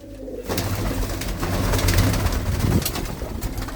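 Small blue-footed pigeons coo steadily in low, throaty, rolling calls, close and continuous throughout, with no talking.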